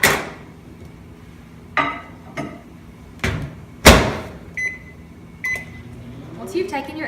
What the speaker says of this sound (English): place them in the microwave for 8 seconds to soften them